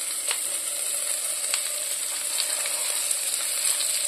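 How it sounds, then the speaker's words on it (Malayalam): Ginger, garlic and curry leaves sizzling in a pan, a continuous bright hiss with small crackles, close and fairly quiet. "ഇതിനകത്തോട്ട് നമുക്ക് ഇച്ചിരി ഇഞ്ചി വെളുത്തുള്ളി ചേർത്ത് കരിയാപ്പില ഇട്ട് കൊടുക്കാം."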